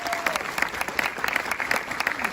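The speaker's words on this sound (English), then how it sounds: "Let's give a round of applause." Audience applause during a church sermon, a dense steady wash of many hands clapping with some crowd noise, fairly loud and continuous across the whole stretch.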